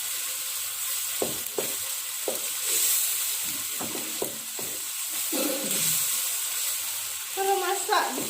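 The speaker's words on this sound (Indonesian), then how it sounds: "Nah, saya masukkan bawang bombaynya." Onions hitting a hot pan and sizzling: a steady, close frying hiss with scattered stirring clicks and scrapes, and brief speech partway through.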